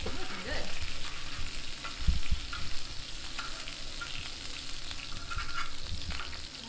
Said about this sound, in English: I'm trying not to burn the shrimp.